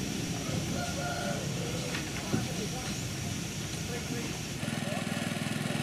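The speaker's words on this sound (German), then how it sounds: "Neben dem Bahnhof schlachtet man Hühner." Chickens and a rooster at a busy market beside a railway terminus station in Java, clucking and crowing amid a constant crowd hubbub, with people talking and a steady hiss of background noise throughout.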